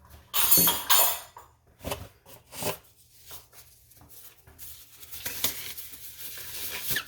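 Irregular scraping and stirring as sliced pork is mixed by hand with cornstarch in a bowl, with a few louder rustling bursts early on and softer shuffling throughout.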